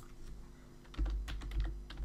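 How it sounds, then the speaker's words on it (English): Keys clatter on a computer keyboard as a search term is typed, a quick irregular run of close, crisp taps over a low steady hum, growing busier in the second half. "just type that into the search bar in the top right"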